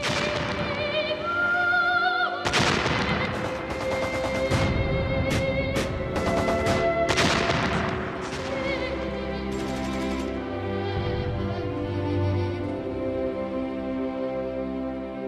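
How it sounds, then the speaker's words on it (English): A front-line battle produces machine-gun fire, rifle cracks and exploding shells. Sharp bursts and cracks cluster densely over a sustained droning background, then thin out into scattered, softer thuds. "only the stutter of machine guns, the crack of rifles, and the screaming, whining, and thudding of shells and mortar bombs"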